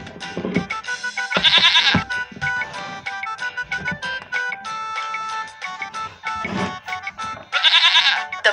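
Two goats bleat loudly in a cartoon kids' story, with strong wavering cries near the start and end over a busy music bed.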